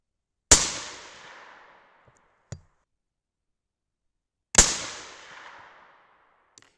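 Two 6.5 Creedmoor rifle shots fired with CCI 400 primers and a slight hang fire, each a sharp, loud crack with a long decaying echo, spaced about four seconds apart, with small clicks between.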